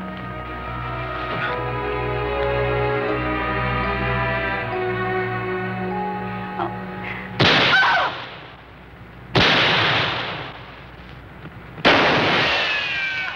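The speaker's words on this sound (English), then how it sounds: "What's all the shooting about?" Gunfire in a Western TV episode: three loud, separate gunshots ring out, each with a trailing echo, following a stretch of sustained orchestral music.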